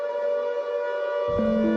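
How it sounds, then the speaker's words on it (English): A civil defense siren sounds to mark the start of the Yom HaShoah two-minute silence in Israel, a loud sustained wail whose pitch shifts partway through. "a siren at 10 a.m. signals the start of a 2-minute silence"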